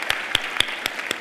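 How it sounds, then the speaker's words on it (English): Applause for the speakers at a conference comes as a short burst of evenly spaced claps, five sharp strikes in just over a second, fairly faint. "There is a big applause for all the speakers now."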